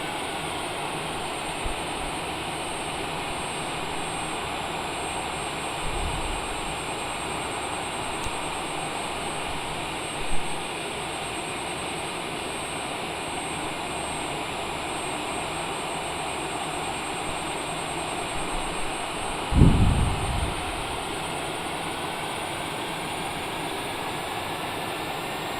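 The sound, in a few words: Cessna Longitude jet engines in flight, auto throttle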